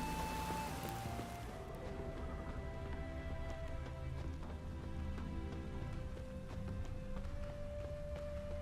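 Steady rain falls across an open-world scene in The Witcher 3, a dense, even hiss with scattered taps and patters that continues for the whole stretch, layered under sustained music tones.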